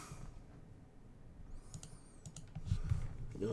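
Java code being typed on a computer keyboard: a quiet run of soft, irregular key taps that grows a little louder and busier toward the end.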